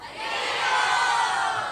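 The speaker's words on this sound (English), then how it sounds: "Thank you so much for that encouraging applause" Loud crowd cheering and shouting from a lecture audience at a girls' event, a dense wash of voices that swells and holds steady for a couple of seconds, with no clear clapping standing out.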